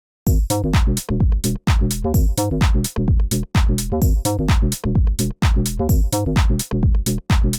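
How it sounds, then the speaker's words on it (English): A Donk Bass synth preset in Serum, built on an analog sine oscillator, plays a loud, punchy run of short bouncy plucked bass notes in a fast rhythmic house pattern, with brief gaps between phrases. "bass number 4 is the Donk Bass"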